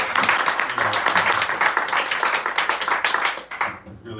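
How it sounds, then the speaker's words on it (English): Audience applause fills the room with dense, steady clapping from many hands, loud and sustained for about three and a half seconds before quickly fading out. "So let's give them a round of applause."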